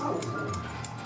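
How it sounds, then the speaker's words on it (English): German Shepherd dogs bark and yip in a quick series of loud sharp bursts nearby, with a steady hum underneath. "So I told y'all the dogs were going to bark"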